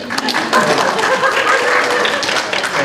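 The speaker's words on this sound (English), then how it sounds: "And a round of some applause." A short round of applause from an audience at a veterinary continuing-education event, scattered clapping for a few seconds with some voices mixed in.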